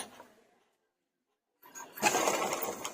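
A sewing machine stitches a puff sleeve for a blouse. After a quiet stretch, the motor starts up close by and runs as a steady, dense whir to the end.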